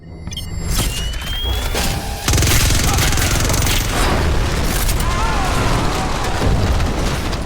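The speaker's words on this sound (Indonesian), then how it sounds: "sistem keamanan yang menembak secara otomatis ke arah mereka" An automatic security system in an action film opens fire, with booming, rapid bursts of gunfire and crashing impacts roaring loud and dense over a narrator's voice.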